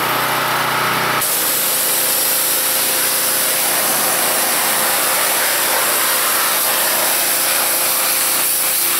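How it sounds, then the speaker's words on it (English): Steady close hiss of a general purpose pressure washer sprayer rinsing off foam-cannon soap, starting abruptly and running continuously and loud throughout. "I'm going to spray it off with a general purpose sprayer."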